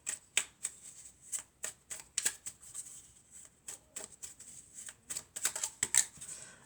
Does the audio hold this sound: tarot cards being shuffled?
yes